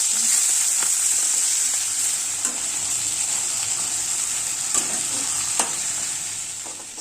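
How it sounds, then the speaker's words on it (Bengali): A fish head rubbed with salt and turmeric fries in mustard oil in a wok. It sizzles steadily and close up, with occasional sharp spits and pops, and no one talks. "এদিকে মাছের মাথায় নুন হলুদ মেখে কড়াইতে সর্ষের তেল দিয়ে ভালো"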